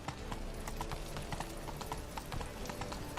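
A horse gallops in The Witcher 3 video game, rapid rhythmic clip-clop of hooves on the ground, steady and close with a brief neigh, no talk over it.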